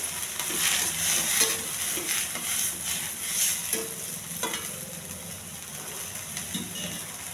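Moong dal fries in a pan with turmeric and salt, a spoon stirring through it in repeated scraping strokes over a constant wet sizzle, close and moderately loud.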